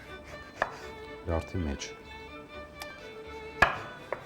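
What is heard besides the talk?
chopping a lemon with its peel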